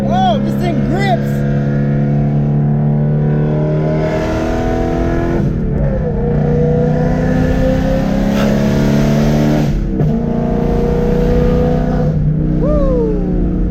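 BMW E92 M3 with a Gintani straight-pipe exhaust accelerating hard through the gears, its loud engine note rising and dropping with each shift while people talk excitedly over it.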